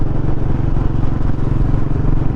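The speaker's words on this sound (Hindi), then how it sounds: "एकदम ही हल्का एक्सेलरेट कर रखा है, बस टच कर रखा है मैंने कि बाइक आगे जाए, तो आवाज़ बहुत मिनिमल सी आती है" A Royal Enfield Bullet 350 motorcycle engine runs at a steady low rumble while riding with only a light touch of throttle, a close, continuous thumping drone with no voices.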